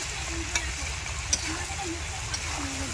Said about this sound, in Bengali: খুব ভালো কষিয়ে নেবে। একদম ভালো করে সব কষাই করতে হবে।